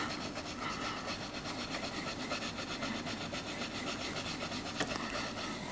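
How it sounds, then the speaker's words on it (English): Aquarium glass is scrubbed with a hand cleaning tool, giving a continuous, fairly quiet rhythmic rubbing and rasping with no voices. "just a quick scrub with this cleans that right up"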